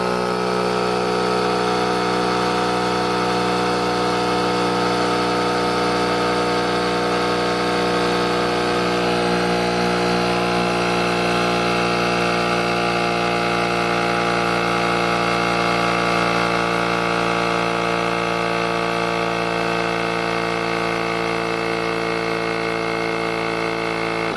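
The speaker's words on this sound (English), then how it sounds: "I should just be able to hit the power button, and this should start pumping up the tire." A Gooloo GT150 portable air compressor runs steadily while inflating a car tire, a loud, even mechanical drone with a constant pitch that holds close-up for the whole stretch, no talking.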